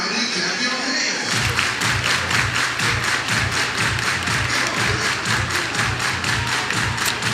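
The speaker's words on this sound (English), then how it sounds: "Everybody clap your hands." A crowd at a baseball game claps in unison, a steady rhythmic beat of hand claps that starts after a short pause and carries on evenly, with faint voices beneath.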